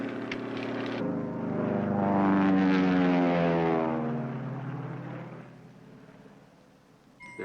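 Propeller airplanes flying as an escort to a distressed aircraft drone past overhead, swelling to a loud peak with a sliding Doppler-like pitch before fading away.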